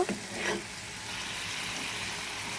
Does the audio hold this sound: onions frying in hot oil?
yes